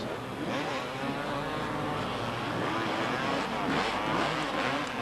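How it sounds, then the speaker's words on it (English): A four-stroke 500 Husqvarna races on the sand at the 1992 Southport beach race. The engine roars continuously and loudly, rising and falling without letup, with no speech. "nice four-stroke 500 Husqvarna belonging to Thomas Banks"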